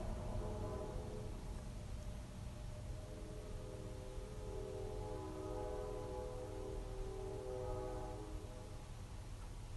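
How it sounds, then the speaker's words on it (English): A slow train rolls past with a steady rumble and faint tonal horn-like hum that swells in the middle and fades, heard at a moderate distance without talk. "I could just sit and listen to the train go by"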